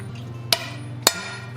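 A hammer strikes a chisel on hot steel while an owl pendant is forged. Two sharp metallic blows land about half a second apart over a low, steady hum, close and clear, with no talking.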